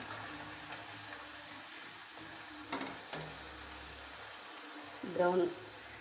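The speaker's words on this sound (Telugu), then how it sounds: "ఇది బ్రౌన్ కలర్లో వచ్చే వరకు ఇది మనం ఆయిల్లో డీప్ ఫ్రై చేసుకోవాలి" Puris deep frying in hot oil, a faint, steady low sizzle with a brief louder bubbling surge near the end, under quiet talk.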